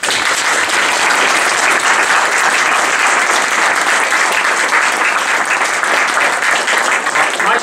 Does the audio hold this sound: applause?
yes